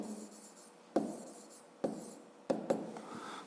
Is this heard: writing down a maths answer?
yes